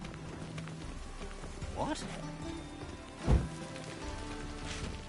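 Rain falls steadily in The Witcher 3 game world, a soft continuous patter with horse hooves clip-clopping and a brief thud, while a voice speaks briefly over it.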